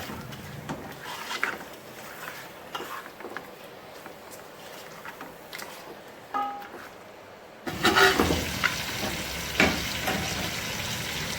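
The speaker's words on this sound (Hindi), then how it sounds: "अच्छी तरह मिक्स करेंगे इसको और अच्छी तरह भूनेंगे 2 से 3 मिनट के लिए इसको।" Mutton pieces fry and sizzle in a pot while being stirred, with scraping and clattering stir strokes; the frying grows louder and denser midway through, with no voices.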